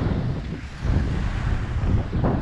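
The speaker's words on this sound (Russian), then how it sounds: "Ветер без прогноза." Strong sea wind buffets the microphone in a continuous, rough rush over a faint wash of surf, heard while kitesurfing in May.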